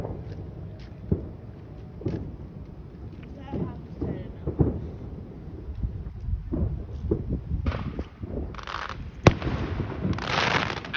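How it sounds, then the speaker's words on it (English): Fourth of July fireworks booming and crackling outdoors, low rumbling bursts followed by sizzling crackle, with people talking now and then in the background. "Fireworks are pretty cool."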